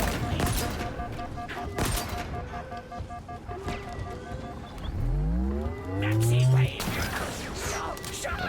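Gunfire and mechanical effects from the video game Halo Infinite, bursts of shots and rumbling with a rising, whining engine-like tone midway, loud and continuous throughout.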